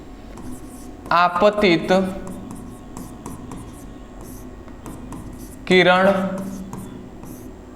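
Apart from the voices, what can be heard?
writing on a board while explaining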